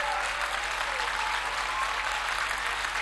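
A live audience at a Hindi comedy and poetry show breaks into steady, sustained clapping that fills the hall evenly from start to finish.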